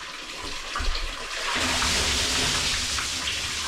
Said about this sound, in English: And this is from that tank filling up.